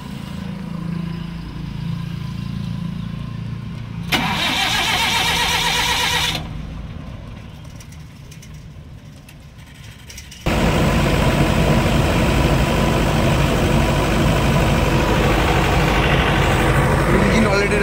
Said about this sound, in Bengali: ইঞ্জিন অলরেডি রানিং আছে।